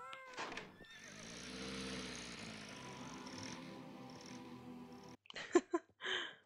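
A cat purrs in the Star Stable horse-riding video game during its Halloween event, giving a steady, rumbling low drone for about four seconds. A few short, sharper game sounds follow.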